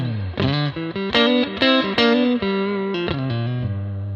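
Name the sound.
electric guitar neck pickup tone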